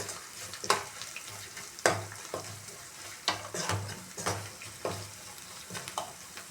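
Half a kilo of boiled potatoes stirred with two spoons of salt in a pan: rhythmic spoon scrapes and knocks against the metal, about a dozen strokes over a low steady hum and light sizzle, close, no talking.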